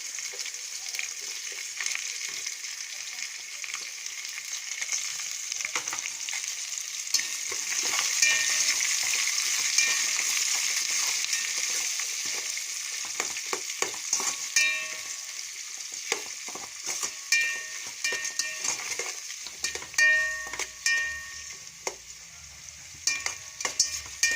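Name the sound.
onions and green chillies frying in a pan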